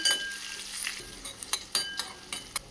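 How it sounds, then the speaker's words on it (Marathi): Chopped onion sautéing in a pan for a Maharashtrian breakfast dish, with a steady soft sizzle and a few sharp clinks of a spoon stirring against the pan, close and with no voices. "कांदा पण लालसर चांगला परतून घ्यायचा आहे"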